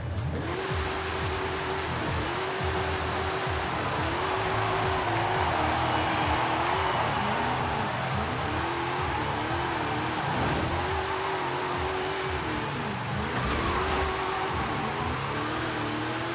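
A car in Forza Horizon 5, with power and torque both near 1,500 and tuned to close gear ratios, is pushed at full throttle, its loud engine climbing through repeated quick upshifts in a steady, continuous rhythm.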